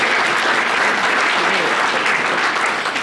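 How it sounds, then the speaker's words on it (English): An audience at a press conference for ballpark design competition winners breaks into loud, dense applause that fills the room steadily from start to finish. "Yeah, round of applause."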